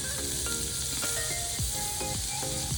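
Butter melting into hot oil in a pan gives a steady, close sizzle with faint crackles and occasional utensil scrapes.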